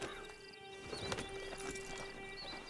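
Horse hooves clip-clop at an easy walking pace in Red Dead Redemption 2, a steady soft rhythm of hoofbeats over a busy game ambience with faint background tones.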